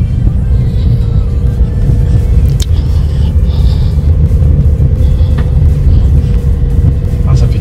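A Renault Twingo II diesel drones along at a steady, loud low rumble from inside the cabin, with faint rattles and bumps over the road.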